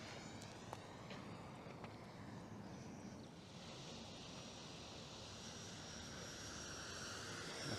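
An FMS 64mm EDF F-16 Fighting Falcon RC jet passes over a runway with a steady, breathy ducted-fan roar that swells and shifts pitch as it moves across, heard at a distance with wind noise.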